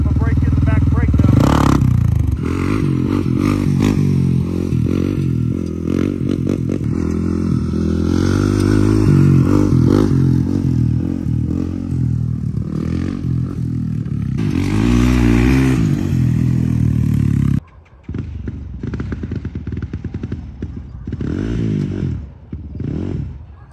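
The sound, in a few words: ATV engine revving during break-in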